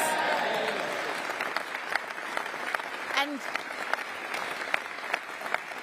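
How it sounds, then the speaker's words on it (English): A crowd at a Westminster campaign launch for the 2026 local elections claps and cheers in a sustained burst after a pledge to scrap stamp duty on family homes. A speaker's voice continues over the applause. "There's a big cheer for that."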